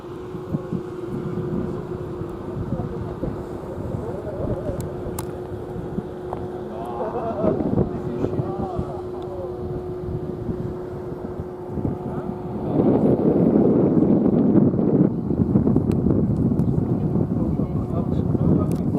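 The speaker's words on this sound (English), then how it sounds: "A lot of gusty wind up here." Gusty wind buffets an exposed mountain roadside about 2300 m up, a steady broadband rush that swells louder in the second half, with someone talking over it.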